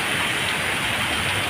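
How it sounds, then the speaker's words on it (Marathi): Heavy monsoon rain in Pune pours off a building as a dense, steady roar of falling water, close and loud, with no voices. "बिल्डिंगवरून कोसळणारं पाणी दाखवतो"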